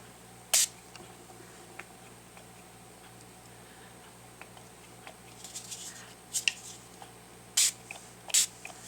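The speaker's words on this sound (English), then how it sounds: "I'm going to give this just a misting." A handful of short, sharp spray bursts spaced irregularly against a quiet background, each a brief hiss from a spray bottle lightly misting an art journal page.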